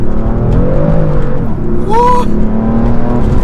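A BMW F80 M3 accelerates hard at full throttle, its engine roaring loud and steady with rising pitch from inside the cabin, while a voice briefly exclaims over it.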